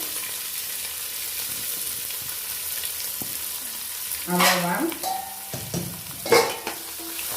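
Onions sizzle steadily in a hot frying pan, with a few louder bursts of stirring and clatter near the end; a voice speaks briefly in Tamil.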